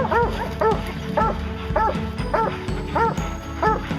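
Dogs bark rapidly and repeatedly close by at a bear, an excited, continuous volley of loud barks.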